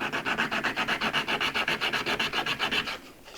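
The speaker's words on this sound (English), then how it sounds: "Nothing like a sharp chisel." Sharp chisel paring wood with about twenty steady, evenly spaced rasping strokes, close and fairly loud, trailing off into quiet at the end.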